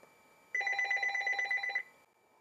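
A telephone rings in one sustained burst of bright, trilling electronic tones lasting just over a second, fairly quiet and with no one speaking.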